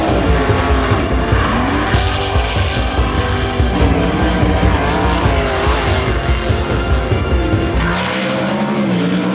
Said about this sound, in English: the Don Smith Classic, night number 7 of the 2016 running of Indiana Sprint Week is green